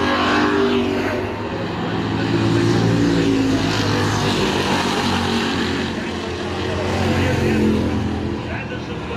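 Race cars on an oval racetrack, including the West Indies car number 15, roar past with engine noise swelling and fading in two passes, heard under a commentator's voice.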